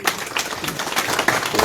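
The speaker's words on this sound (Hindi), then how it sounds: "जोरदार तालियों से।" An audience claps loudly to welcome a new member joining a political party, with dense, uneven hand claps close by and brief voices mixed in.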